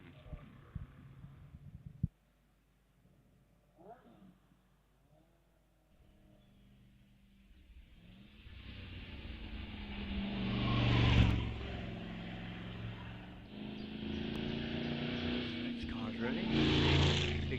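Big Allard racing car climbing through the S bends at Wiscombe Park hillclimb, its engine growing from distant to a loud, rising roar as it nears, under a commentator's voice.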